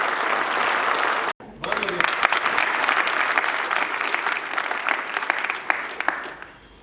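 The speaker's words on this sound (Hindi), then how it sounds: "सब एक जोरदार ताली से आज उस उत्सव में आने का अपना बताइए" An audience at a festive mega meet bursts into loud, dense applause after a brief silence, the clapping sustained and close, with crowd noise mixed in.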